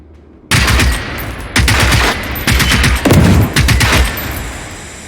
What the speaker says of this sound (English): I need my assault rifle here.